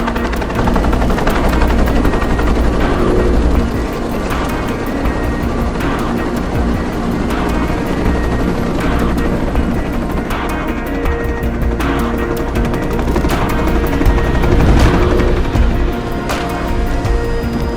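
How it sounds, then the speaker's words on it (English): A helicopter sounds in a Tomb Raider Legend video game cutscene, a loud, steady, rapid rotor chop with engine roar that runs throughout, joined by a few sharper bursts. "Nishimura's got a chopper outside waiting for you."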